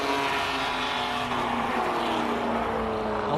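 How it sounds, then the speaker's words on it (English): A classic race car roars at a hillclimb event, its loud sustained exhaust drone holding steady near the listener throughout the run. "Huge exhaust noise coming out."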